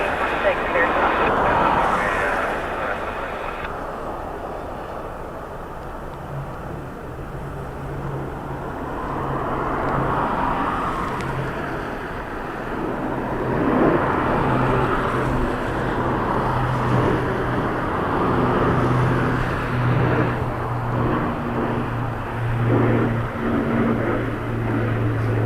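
Airliner landing on runway 16 at Dublin Airport in gusty crosswind, a distant jet roar that swells and lingers over wind and traffic noise, with people talking throughout.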